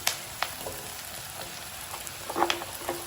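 Mushrooms added to softened onions sizzle quietly in a pan, with a soft, steady crackle and occasional small pops, faint and without talk.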